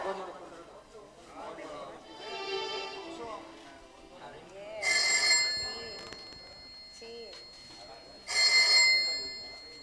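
A telephone rings in bright, repeated bursts during a stage drama, two loud rings standing out clearly, with people talking and other stage sounds between and beneath them.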